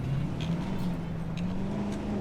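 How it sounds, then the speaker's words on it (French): A vehicle drives through the Jurassic World Evolution game world, its engine humming steadily with a rising whine as it accelerates, close and continuous. "Tiens, on va conduire le véhicule."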